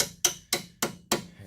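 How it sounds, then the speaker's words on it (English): A small hammer taps the alternator retaining clip on a 2008 Saab 9-3 with a 2.8 L V6, four sharp metallic knocks at an even pace, close and clear with no talking. "Get your little small hammer,"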